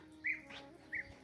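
Bee-eater birds give two brief trilling calls, faint and distant over a low steady background hum.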